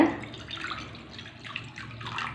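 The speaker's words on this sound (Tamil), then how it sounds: "ஒரு கப் அளவுக்கு தண்ணி ஊற்றிக்கங்க" Water is poured into an iron wok on the stove, a soft splashing pour in a few uneven surges, close and alone.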